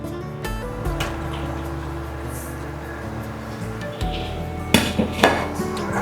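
Tomatoes go into a pot of bell peppers on the stove, with light clinks and scraping followed by a quick cluster of louder thuds and clatters near the end.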